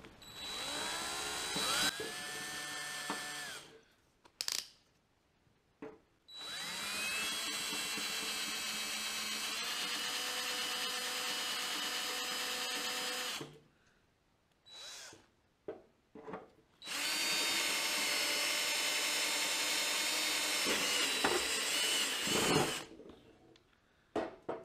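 A power tool drills and grinds steadily while retapping a threaded hole after a broken bolt during a forklift build from a Cub Cadet, in three long sustained runs separated by brief pauses and clanks.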